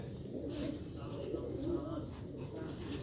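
Pigeons coo softly and continuously in a loft, with faint chirps over steady low background noise.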